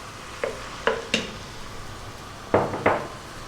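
Tomatoes going into a hot pot for spicy Indian red lentil soup, with a series of sharp metallic spoon clanks and scrapes against the pot over a low sizzle, about five distinct knocks.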